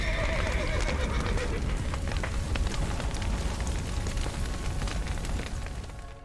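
In The Witcher 3, a horse whinnies early amid a stable fire, the cry fading into a dense roar of flames and crackling debris that holds steady before dying away at the end.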